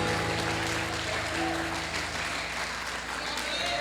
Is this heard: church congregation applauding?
yes